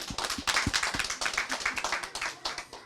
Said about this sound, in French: Cher public, je vous prie d'applaudir les comédiens.